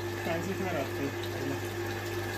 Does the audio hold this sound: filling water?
yes